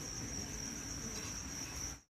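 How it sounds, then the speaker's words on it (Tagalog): Frogs calling at night on the road from Pagudpud toward Laoag City in Ilocos Norte, a steady dense chorus with a continuous high trill, heard alone with no talk. "Ayan, daming palaka."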